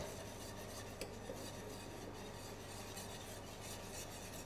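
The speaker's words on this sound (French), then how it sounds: "il va falloir remuer notre crème de façon à ce que la cuisson se fasse le plus régulièrement possible, bien dans l'angle de la casserole" A spoon or whisk stirs crème pâtissière in a saucepan on an induction hob set to medium, producing a faint, continuous scraping and rubbing with small irregular bumps and no voices.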